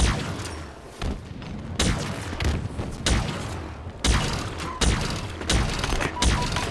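Pistol fire in the video game Halo Infinite, a rapid series of sharp, loud shots in bursts, with heavy thuds and booms mixed in across the stretch.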